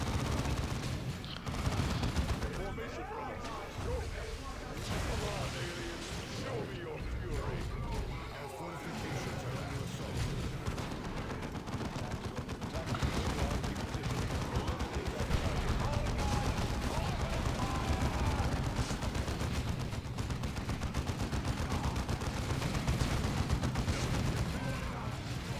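Squad gunfire in the real-time strategy game Dawn of War 2 crackles almost nonstop, with dense overlapping bursts and booms forming a busy battle bed at moderate level beneath a commentator's voice.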